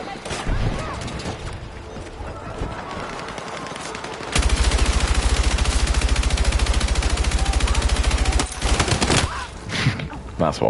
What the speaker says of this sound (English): Suppressing fire, dude.